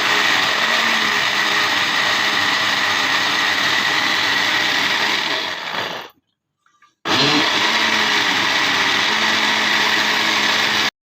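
Loud electric blender whirring steadily as it churns cream into butter, a constant high motor whine that cuts out abruptly for about a second, then starts again at full strength.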